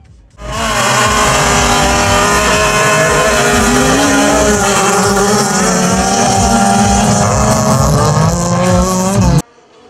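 Rally cars roar around a hilly autocross track with steep turns at a Russian championship round, engines revving loud and continuous for nearly the whole stretch, rising and falling as they race past.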